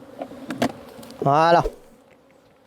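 Bees buzz around a beehive super during a honey frame harvest, a close, loud buzzing swell that lasts about half a second, surrounded by light handling clatter and a brief spoken word.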